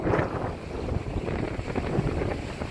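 Strong gusts of wind after Hurricane Irma buffet the microphone in a continuous low rumble with rising and falling surges, close and loud, and no talking.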